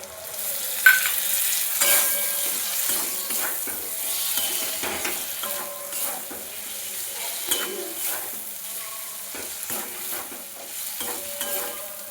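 Chopped tomato frying in a pan for winter mutton ghugni, a soft nearby sizzle with intermittent clinks and scrapes of a spoon stirring against the pan, no voices over it.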